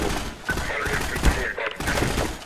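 Rapid, uneven gunfire in the shooter game Half-Life 2, dense bursts of shots with thuds running throughout, mixed with other game noise.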